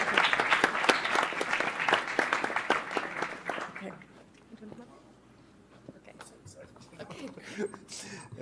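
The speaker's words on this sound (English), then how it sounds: "Please give a big round of applause for Dimitri and Maria," An audience at a university panel event claps in a warm burst of applause that fades after a few seconds into a quieter room with scattered sounds.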